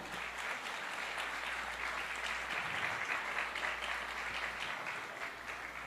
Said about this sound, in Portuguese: Um aplauso bem bonito para o Senhor